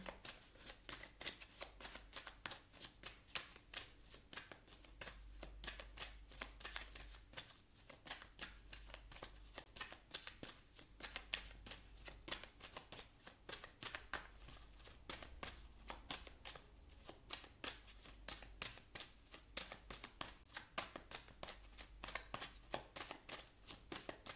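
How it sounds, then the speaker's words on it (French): Oracle cards of a love oracle deck being shuffled by hand, a steady run of crisp riffling flutters and soft slaps that repeat through the whole stretch at close range, with no voices. "On va prendre des cartes également du grand oracle de l'amour ici."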